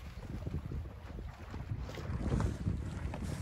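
A sailboat moving under sail on the open ocean, with steady wind rushing across the microphone, water washing against the hull and a continuous broadband wash throughout.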